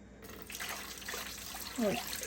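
Water poured into an Icy Breeze portable cooler unit, a quiet trickle and splash filling the reservoir, faint and brief, ending in a short gurgle.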